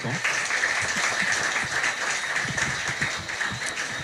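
Guests at a reception held in Guadeloupe in honour of fencer Laura Flessel break into sustained, steady applause, a dense wash of many hands clapping at moderate loudness throughout.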